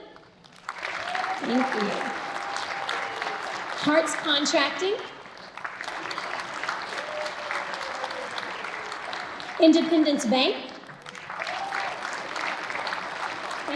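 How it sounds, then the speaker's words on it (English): Audience applause at a chamber of commerce celebration greets the sponsors, a steady moderate clapping that swells and dips while a presenter reads names and gives thanks over it. "Y'all are gonna have to clap when they stand up."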